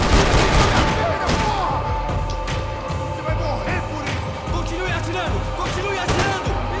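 Steady gunfire in Max Payne 3 during an airport terminal shootout, repeated shots blending into a dense, continuous battle din with low rumbling and a steady background drone throughout.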